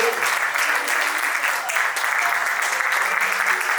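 Wedding guests at a French civil ceremony applaud the witnesses with sustained, dense clapping that stays loud and even throughout, with no gaps.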